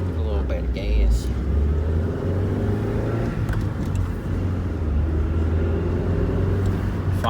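A 2001 Saturn SC2 engine, brought home on a tow dolly after weeks of not running and with squeaking brakes, idles with a steady low rumble and gets a light blip of gas, running continuously under nearby talk.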